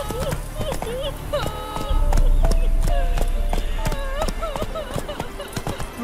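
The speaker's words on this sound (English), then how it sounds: "Whoa there, Roach" Horse hooves clip-clop at a fast gallop in the Witcher 3 video game, rhythmic close hoofbeats with a brief whinny-like cry and game sounds layered over them.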